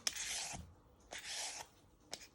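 A peeler scrapes skin off a carrot in three close, rasping strokes, each lasting about half a second, with quiet pauses between them.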